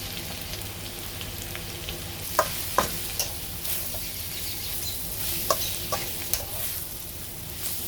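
A chicken stir-fry with cornstarch sizzles in a pan while being mixed, a constant frying hiss broken by several sharp scrapes and clicks of the utensil against the pan.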